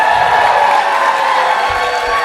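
Audience at a live improv show cheering and shouting loudly and continuously, a dense wall of crowd voices with a little clapping.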